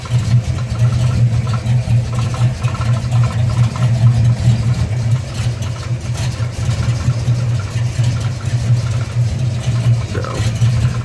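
A 1984 Buick Regal engine idles steadily through 2 1/4 inch pipe and quiet mufflers, a deep, even, moderately loud rumble close by that goes on throughout.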